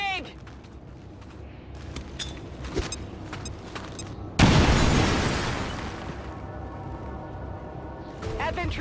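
A grenade detonates in the turn-based strategy game XCOM 2. One loud, sudden blast hits midway and decays into a long rumbling tail, with game voices and effects before and after it.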